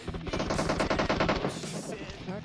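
An M249 machine gun fires in a shooter video game, rapid automatic bursts rattling loud and close, with a dense run of shots before trailing off.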